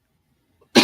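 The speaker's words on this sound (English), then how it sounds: "I'm starting to cough." A single sharp human cough, loud and close, bursting abruptly after near silence.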